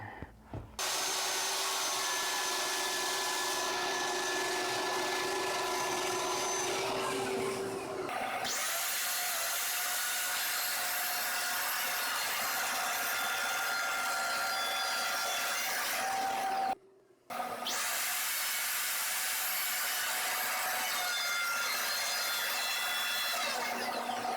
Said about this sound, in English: those will guide the router around